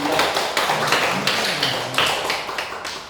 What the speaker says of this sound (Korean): 우리가 하나님 앞에 영광의 박수 한번 돌리도록 하겠습니다